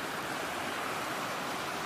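A little river stream flows near Low Force waterfall in County Durham, giving a continuous broad, even hiss of rushing water, steady and moderately faint with no voices.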